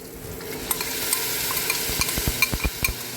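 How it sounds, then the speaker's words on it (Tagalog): Corned beef fries in a pan with a steady sizzle, broken by a series of clattering scrapes and taps as it is stirred, growing busier toward the end, close and without voices. "lagay na po natin ang ating corned beef"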